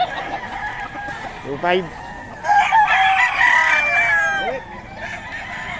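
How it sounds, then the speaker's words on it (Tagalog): A young rooster (stag) gives a loud, close crow, a rising strained call with clucks before it, while people talk in the background at a poultry sale. "Stag to, no? Stag."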